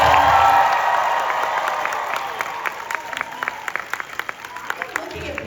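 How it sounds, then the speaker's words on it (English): A convention panel audience applauds and cheers to encourage people drawing on stage, beginning with a loud burst of clapping and whoops that gradually thins into scattered, distinct claps toward the end. "Guys, give them some encouragement, round of applause."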